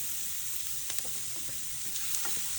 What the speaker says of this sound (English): So here I have added onion. I'm going to fry them